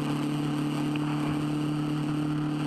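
Kawasaki Z1000R motorcycle cruising along an elevated expressway, a steady engine drone with a strong low hum and constant wind rush, unbroken throughout with no voices.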